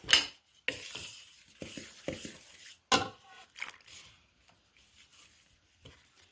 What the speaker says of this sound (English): Keep stirring until the moisture is stirred through